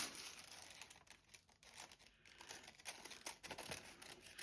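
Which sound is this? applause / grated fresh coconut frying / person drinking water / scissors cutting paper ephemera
scissors cutting paper ephemera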